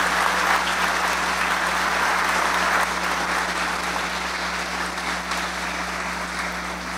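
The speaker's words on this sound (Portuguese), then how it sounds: "Então eu gostaria de convidar você a aplaudir ao Senhor por tudo aquilo que Ele tem feito." A Methodist church congregation claps in praise during a choir anniversary service, producing sustained, even applause that fills the sanctuary over a low steady hum.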